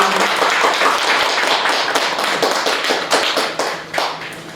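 At a Buddhist lecture, an audience gives a lecturing professor a big round of applause. Close, loud clapping with distinct individual claps thins slightly toward the end.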